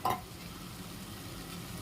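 Soaked rajma is stirred into masala with curd in a pan, a brief close scrape followed by a low, steady frying sizzle, without speech.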